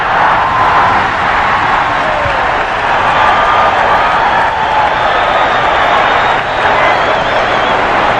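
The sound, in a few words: basketball arena crowd cheering a play by Dr. J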